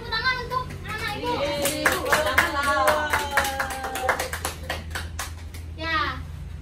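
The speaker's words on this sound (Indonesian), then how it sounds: "Silakan tepuk tangan untuk Nana Ibu." Students in a classroom clap in a burst of scattered applause, mixed with children's chatter and a teacher's voice talking over it.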